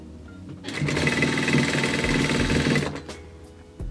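Sewing machine running a seam on stretchy kids' jogger fabric, with a band stretched to fit the trousers, gives one loud, close two-second buzzing burst that starts and stops abruptly, followed by a light knock.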